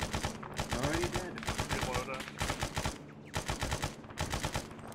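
Rapid bursts of automatic gunfire in a video game firefight, loud and dense with repeated volleys separated by brief pauses, under a busy mix of other battle noise.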